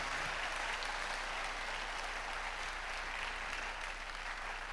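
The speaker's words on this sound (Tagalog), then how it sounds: "Pumalakpak ka rin na malakas." Steady, dense applause from a church congregation during a sermon, continuous and even throughout, heard from a distance at moderate volume.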